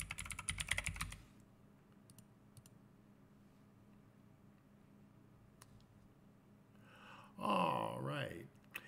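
Typing on a computer keyboard while entering a wallet password, a burst of quick clicking keystrokes near the start, then quiet room tone before a person begins talking.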